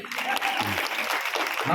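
Audience clapping at a Ramayana quiz event, a dense steady wash of applause lasting throughout, with a voice briefly audible over it.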